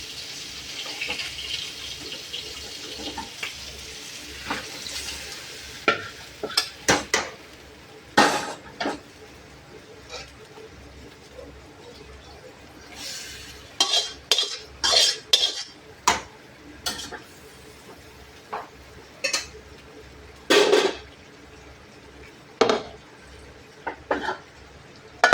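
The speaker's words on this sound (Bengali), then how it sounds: "একসাথে ভালো করে নাড়াচাড়া করে" A utensil stirs fried chicken in a pan, making irregular bursts of metallic clanks and scrapes that come in clusters between quieter stretches of low background hiss.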